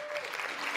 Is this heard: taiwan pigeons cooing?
no